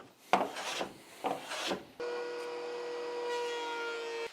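A sharp hand plane shaves walnut boards flat in a woodshop: three or four quick rasping strokes up close, then a steady tonal machine hum takes over.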